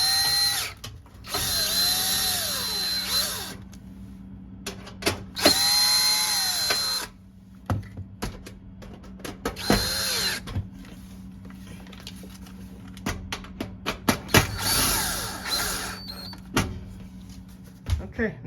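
Power screwdriver driving screws to fasten the cover of a GE Cafe gas oven, several whirring bursts of a few seconds each with pauses and clicks between them, close by, alongside a low steady hum.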